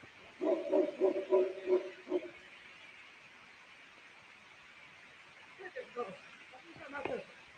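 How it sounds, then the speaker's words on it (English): Dogs barking in a quick rhythmic series of yips and bow-wows early on, then fainter barks later, set against a soft steady background hiss. "That's probably why them dogs keep barking."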